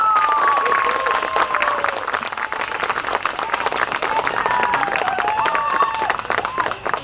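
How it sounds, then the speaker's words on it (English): Enthusiastic audience applause at a Cub Scout Pack 32 Arrow of Light ceremony in Selmer honoring a den leader, with dense sustained clapping, a few whistles and scattered cheers from the crowd. "Let's give her a big round of applause."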